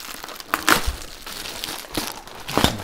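A fabric covering being ripped off the top of a Telecaster guitar body gives a few sharp crinkling, tearing bursts near 0.6, 2.0 and 2.6 seconds over low room noise.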